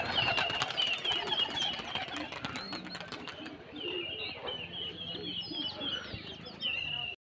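Pigeons cooing and taking flight near bamboo perches, with wing flaps and soft coos over continuous background chatter, and someone speaking throughout.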